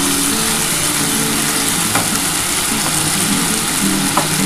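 Spice paste for a light fish curry with vegetables, sautéed well in a hot pan: a steady, loud broadband sizzle runs throughout, with a few faint scrapes of stirring near the end and no voices.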